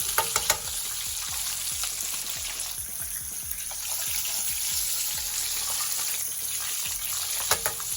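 Catfish fries in a hot skillet with a steady, busy sizzle and crackle throughout, punctuated by occasional louder pops and a few clinks near the start and end; no one speaks.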